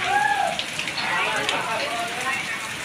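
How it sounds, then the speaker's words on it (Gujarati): First monsoon rain of the season on 15 June in Gujarat, a steady patter of drops on surfaces filling the scene, with voices and faint sounds of people nearby. "આજે 15 જૂન ને ચોમાસું, પહેલો વરસાદ છે 15 જૂનનો"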